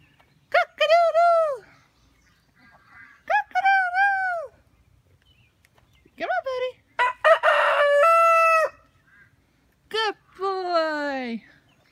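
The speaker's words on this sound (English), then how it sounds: "You gonna crow again?" Rooster crowing several times in separate bursts, loud and close, with short quiet gaps between calls.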